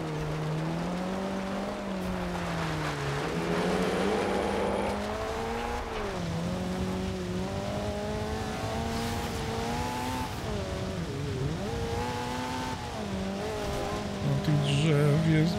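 A race car engine drones through a night forest race in Forza Horizon 2, its pitch rising and dipping steadily as the car accelerates and shifts, loud and continuous throughout.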